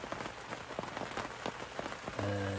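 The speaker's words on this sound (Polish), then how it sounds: "Zaczęła się ta pora deszczowa." Rain patters on a pontoon during a fishing trip, a dense close hiss of drops with irregular louder taps, joined near the end by a steady tonal hum.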